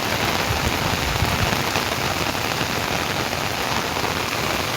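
Heavy first monsoon rain falling in Bajud village, a loud, dense, unbroken hiss of drops pounding surfaces nearby, with no voices.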